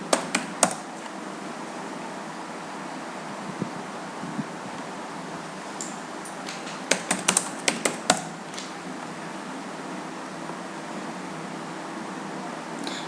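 A computer keyboard gives scattered keystrokes while a debug command is typed, with a few clicks at the start and a quick cluster of taps midway over a faint steady hiss.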